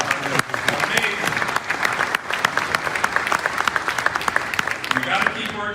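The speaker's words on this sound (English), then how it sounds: "How about a round of applause?" Audience at the 2022 Alaska Federation of Natives Convention applauding steadily with dense, sustained clapping throughout, a voice briefly audible over it.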